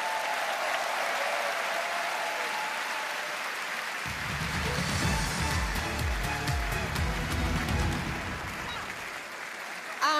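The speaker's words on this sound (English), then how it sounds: "let's give all the artists a big round of applause" An arena crowd at the Eurovision Song Contest grand final in Vienna claps loudly for the artists, a dense sustained round of applause with some cheering that swells midway and then tapers off.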